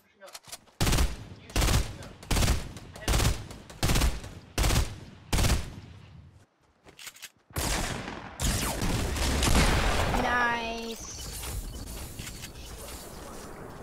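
Gunfire in the video game Fortnite rings out as a steady run of about nine loud, evenly spaced shots, followed by a sustained roar of continuous game noise, with players talking at times.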